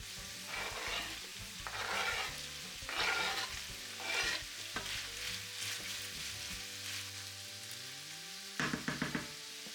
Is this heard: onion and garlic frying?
yes